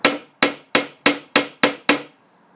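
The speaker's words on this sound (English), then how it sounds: "Even with a copper hammer, I can't hit it too hard, so it's glass." Seven evenly spaced sharp taps from a copper hammer striking the seized rear wiper spindle of a BMW E91 touring estate, each ringing briefly and decaying before the next, close and loud with no speech.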